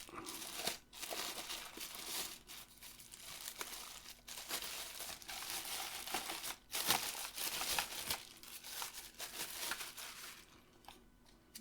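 Tape is pulled and peeled off a new Gamesir G7 Pro controller during unboxing, making close crinkling, tearing and rustling that runs nearly continuously with a few brief pauses.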